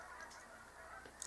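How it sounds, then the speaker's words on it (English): A flock of geese flies overhead outdoors. Their honks come faint and distant over a steady background hiss for a moment. "There's a flock of geese coming through right now."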